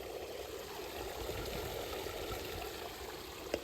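A small fountain in an amusement park runs with a steady, soft wash of flowing water, even and continuous, with one faint click near the end.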